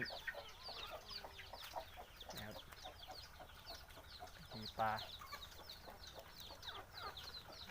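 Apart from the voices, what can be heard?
chickens clucking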